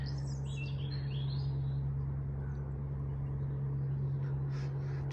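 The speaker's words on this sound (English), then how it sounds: "Robins singing away." Robins sing on a February afternoon at Penrhyn in Cornwall, thin high phrases trilling at a distance over a constant low hum of outdoor background noise.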